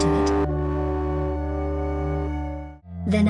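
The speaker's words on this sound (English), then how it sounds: "I'm adding a little distortion to it." Bass recorder chords with distortion added, a sustained buzzy low chord held for a couple of seconds between brief brighter notes, close and loud with no talking.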